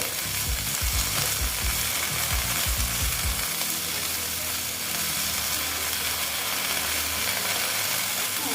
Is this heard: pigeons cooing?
no